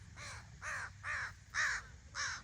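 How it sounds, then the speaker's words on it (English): A crow caws loudly five times in an even rhythm, each harsh call close and clear over a low background rumble. "we got a loud crow right there"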